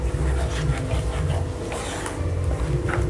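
Cashew and onion paste is stirred around a pan of hot oil for shahi paneer, giving a steady soft scraping and rubbing with low sizzling underneath, close and continuous.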